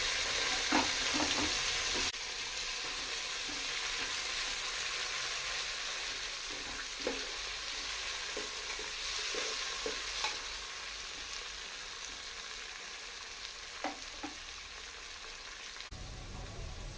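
Carrots, curry leaves, coriander and mint fry in a pan for bagara rice, a continuous sizzle broken by a series of soft scraping stirs and light clinks of a spoon.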